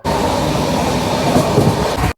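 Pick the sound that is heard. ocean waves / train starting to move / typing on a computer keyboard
train starting to move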